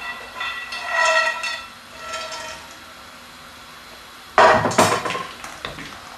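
A brief burst of sizzling and clattering as onion and cashew nuts hit a hot stir-fry pan, loud and close, after quieter metallic kitchen clinks.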